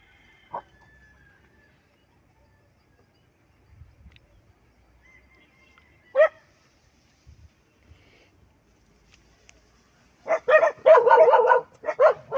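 Near silence with faint scattered noises, then a dog barks several times in a quick burst toward the end.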